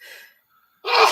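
A quick sharp intake of breath, a short pause, then a loud burst of a single sneeze up close.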